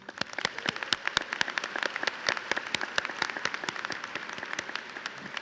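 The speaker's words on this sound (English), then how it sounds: "so join us in a round of applause." Parents at a high school graduation ceremony applaud with a thin, scattered patter of claps in a large space. The applause sounds fairly distant and quiet, with no talk over it.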